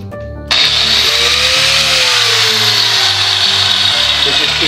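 An angle grinder powered through a solar inverter on a farm kicks on after a brief pause and runs loud and steady with a high whine and a hum beneath it until the end.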